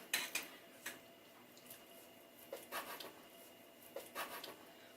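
Kitchen knife chopping sundae (Korean blood sausage) and garlic chives for a spicy chive salad, a few sharp irregular knocks on a cutting board with short clusters of hurried cuts, close and fairly quiet.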